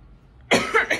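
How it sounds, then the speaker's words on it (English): Single sharp cough from a person with a sore throat in a hotel setting, close and loud, breaking into two or three quick bursts after a quiet moment. "It's like a wee cough and like a sore throat because the aircon."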